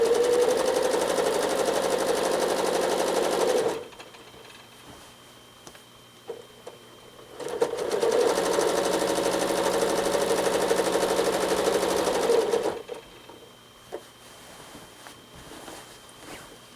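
A sewing machine doing free-motion quilting on a large quilt, running in two long steady humming bursts of rapid stitching separated by a quiet pause with small handling sounds, close and clear.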